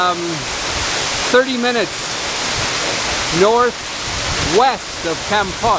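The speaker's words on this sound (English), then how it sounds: "So here we are, we're right behind the waterfall." Steady broadband roar of Tada Waterfall in the mountains of Cambodia, heard close up from behind the falling water, running continuously under a voice as he talks throughout.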